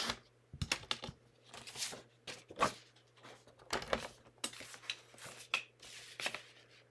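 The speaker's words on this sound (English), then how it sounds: "So I'm going to cut my cardstock at 8 by 8." Cardstock cut to 8 by 8 inches on a paper trimmer gives repeated close, sharp scraping slices and sliding clicks in uneven bursts against a quiet low hum.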